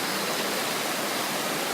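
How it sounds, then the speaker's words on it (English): Steady broadband roar of a waterfall in a jungle setting, continuous and close, with no voices or other sounds standing out. "We're at a waterfall in Colorado."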